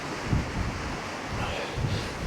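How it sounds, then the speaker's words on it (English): Strong gusting wind, above 45 mph, at Poole Harbour during a storm, roaring steadily over the microphone with low buffeting thumps and a constant broadband rush, close and loud with no voices. "Quite sheltered here, really, with the van blocking the wind."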